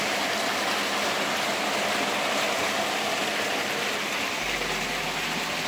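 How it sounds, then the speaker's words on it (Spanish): Two pool pumps and a sand filter run in a house's machine room, one pump serving the swimming pool and the other the jacuzzi hydrojet, giving a steady, loud, rushing whir and water hiss that holds unbroken throughout. "el cuarto de máquinas, dos bombas, una para la alberca, el filtro de arena para la alberca y el hidrojet"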